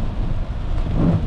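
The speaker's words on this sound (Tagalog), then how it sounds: "Wala na masyado namimili sa public market, sa night market, at malakas ang ulan." A dense, steady roar of heavy night rain on a street by a public market, with a low rumble underneath, continuous and close, with no voices.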